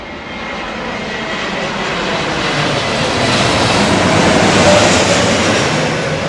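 A jet airliner on arrival at Heathrow Airport roars loudly in low-pressure conditions, a broad steady rush that swells gradually as it passes close overhead, with no voices.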